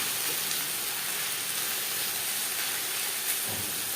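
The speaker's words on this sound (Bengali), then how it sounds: "হাই ফ্লেমে আরও 2-3 মিনিট নাড়াচাড়া করে নেব" Drumstick leaves with coconut stir-frying in a pan on a high flame, giving a steady loud hiss and sizzle with faint stirring scrapes throughout.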